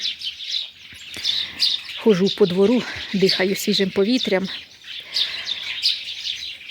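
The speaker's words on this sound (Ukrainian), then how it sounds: "посідали пташки і не то розгомонілися на своїй пташиній мові" Birds perched in a cherry tree chirp and tweet continuously in the background outdoors on a sunny morning while a person speaks nearby.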